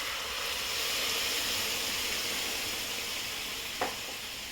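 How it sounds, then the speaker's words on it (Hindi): Boiled whole masoor dal is added to fried masala in hot oil on a slow gas flame, giving a steady close sizzle with a brief stirring clink near the end. "जो दाल उबाल के रखी हूँ उसे मैं डाल देती हूँ।"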